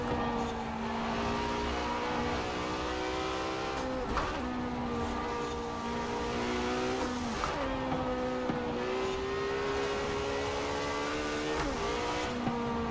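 A Lamborghini Huracan Performante with aero kit races in Forza Horizon 4, its engine note steady and loud throughout, rising and dipping with gear changes and throttle lifts, the droning tone continuous.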